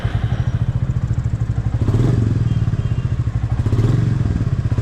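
A 2025 Royal Enfield Meteor 350 motorcycle on the move, its single-cylinder engine thumping in a steady low pulse, close and loud, swelling slightly as the throttle opens.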